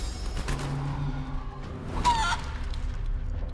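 Cartoonish chicken clucks from the video game Divinity: Original Sin 2, a few soft calls over steady low game ambience, with a brief louder squawk near the middle.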